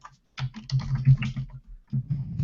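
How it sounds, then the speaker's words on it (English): Rapid keystrokes on a computer keyboard as a message is typed into a live support chat, a close, busy run of clicks and taps that pauses briefly before resuming, with no voices. "let me just type it in here"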